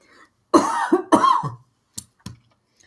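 A person coughs twice in a row, harsh and close, followed by two short, faint throat-clearing coughs.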